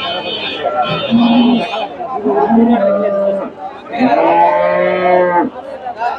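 A Friesian cow moos loudly and close by at a cattle market, three long drawn-out lows in a row, with faint crowd chatter in the background.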